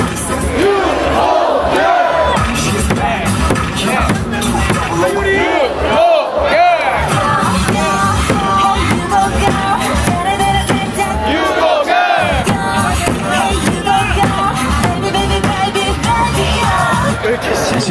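A packed Hanwha Eagles baseball crowd roars and chants in unison, loud and continuous throughout, with brief dips in the din and a voice over the stadium sound at times.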